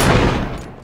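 A single loud sniper rifle shot from the M24 in a shooter video game, with a sharp crack that trails off into a fading echo.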